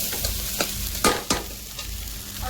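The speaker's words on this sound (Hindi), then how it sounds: "और दाल भी फ्राई कर दी हमने।" Dal frying in a pan while being stirred, a steady close sizzle with sharp scraping clinks of the spoon against the pan at irregular intervals.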